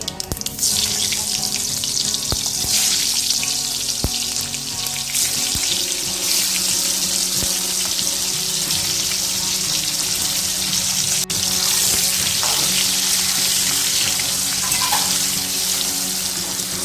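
Loud continuous hissing sizzle of bitter gourd frying in a hot pan with mustard seeds and turmeric, with occasional clicks and clatter of stirring.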